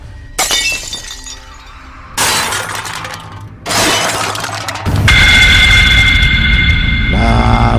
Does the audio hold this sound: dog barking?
no